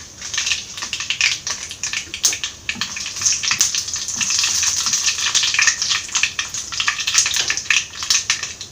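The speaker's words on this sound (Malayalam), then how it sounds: "കടുക് പൊട്ടി വരുമ്പോൾ ഇതിലേക്ക് വറ്റൽമുളക് ഇട്ട് കൊടുക്കാം" Dried red chillies and mustard seeds frying in hot oil for a Kerala fish curry, a continuous close sizzle thick with rapid crackling pops that swells in the middle and keeps going without talk.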